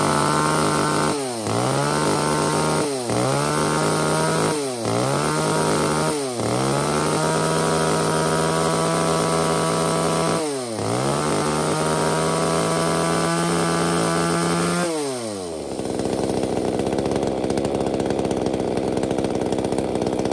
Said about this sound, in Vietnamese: cửa hàng chúng em xin phép giật test nổ con này cho các bác nghe qua tiếng máy luôn ạ